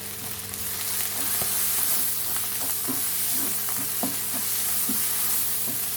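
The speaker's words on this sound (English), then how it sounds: "I'm going to cook that for a further 5 minutes till the spices are cooked. I'm going to keep mixing so nothing burns or sticks to the bottom" Spices for chicken korma frying in a pan, a constant loud sizzle with regular scraping stirs of a utensil against the pan bottom, close up and alone.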